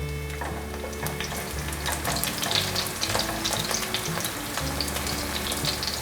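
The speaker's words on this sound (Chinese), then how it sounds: "杏鲍菇都煎成金黄色了，可以关火起锅" Strips of king oyster mushroom pan-fry in a hot pan with a steady, dense sizzle and crackle, broken by occasional soft stirring taps, close up and with no talking.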